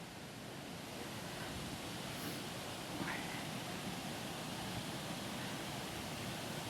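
A forest waterfall with fallen trees lying in it, a steady, dense rush of falling water heard close up, constant and unbroken, with no voices over it.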